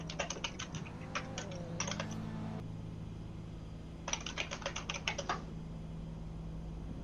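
Computer keyboard typing while a GT3 racing game lap is driven on keys, coming in two dense bursts of rapid clicks separated by a quieter stretch, over a steady low hum.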